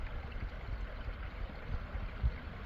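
Water keeps flowing beneath an iced-over backyard waterfall in a Michigan winter, giving a faint, continuous low gurgle and trickle with no talking.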